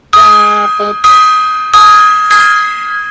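A gong or large bell is struck four times in a steady sequence, each hit loud and close with a bright ringing tone that decays slowly before the next strike.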